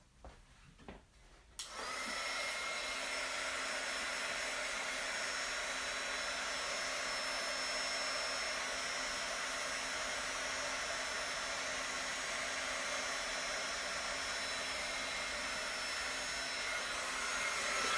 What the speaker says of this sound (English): I've got a non-Stampin' Up! Heat setter, heat tool.